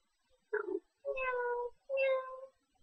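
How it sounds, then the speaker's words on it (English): A cat meows three times close by, first a short low call and then two longer, rising, plaintive meows, clear against a quiet background. "meow, meow, meow. He cries."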